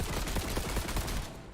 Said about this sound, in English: you charge it up, and then it just automatically starts shooting